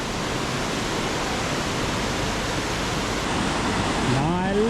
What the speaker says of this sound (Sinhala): නාඇල්ල එතකොට කොස්කොල්ල ඇල්ල මේ දෙකෙන්ම එන දියපහර එකතු වෙන දියපහර තමයි මේ පහළට යන්නේ